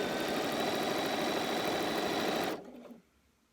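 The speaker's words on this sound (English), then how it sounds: "I'm just going to sew 1/4 of an inch seam all the way down" A sewing machine stitches a quarter-inch quilting seam with a steady, fast, close whirring drone that runs continuously and then winds down and stops.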